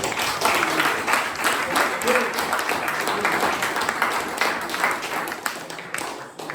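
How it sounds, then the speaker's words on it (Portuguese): A congregation applauding during a church worship service, steady dense clapping from many hands that fills the room for several seconds and fades slightly at the end. "Vamos aplaudir ao Senhor."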